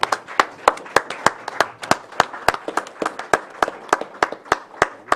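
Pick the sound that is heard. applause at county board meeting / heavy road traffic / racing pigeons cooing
applause at county board meeting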